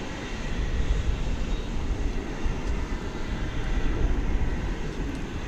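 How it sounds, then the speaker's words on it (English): A Boeing 777-200 wide-body jet arriving from Dublin at DFW Airport at night makes a loud, steady, broadband engine roar that holds throughout with no talking. "flight 9601, another high-numbered wide-body coming in. This one from Dublin."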